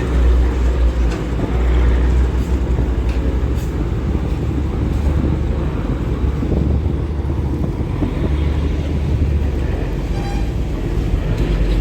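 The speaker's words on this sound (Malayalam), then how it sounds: "അങ്ങനെ അടുത്ത ജങ്കാറും കൂടി വന്നിട്ടുണ്ട് കേട്ടോ." A Kochi junkar ferry arrives carrying vehicles, a steady low engine rumble with wind buffeting the microphone throughout, loud and continuous with no clear breaks.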